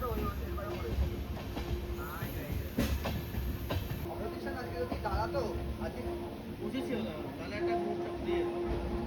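A train pulling into Barbil station gives a faint, steady rumble with light rail clatter, under a soft murmur of voices.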